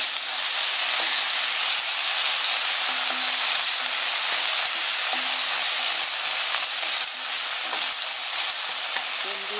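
Shrimp paste (bagoong) sautés in a pan for crab cooked in coconut milk, making a strong, steady hiss-like sizzle with faint stirring clicks, close and continuous with no voices.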